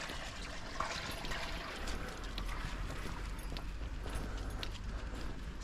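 Rain-swollen water rushing along a roadside brook on a Jersey country walk, a steady broadband wash of flowing water running continuously and fairly close, with no talk.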